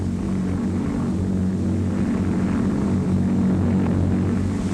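Lockheed Lodestar propeller airplane carrying a full load racing down the runway for takeoff, a loud, steady engine drone with a low throbbing hum filling the whole stretch.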